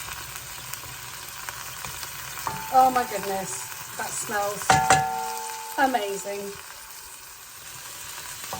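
Curry cooking in a pan with a splash of freshly boiled water added, sizzling and frying steadily at close range while a voice speaks over it.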